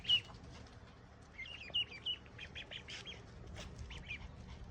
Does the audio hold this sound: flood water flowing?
no